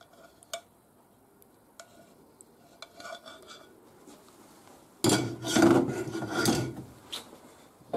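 A pan of hake in green sauce being shaken on the stove: a few faint clinks and scrapes at first, then a louder stretch of rubbing, sloshing metal-on-hob movement lasting a couple of seconds.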